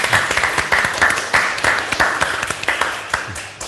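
Applause from a symposium audience, a loud and lively burst of many hands clapping at close range that gradually thins toward the end.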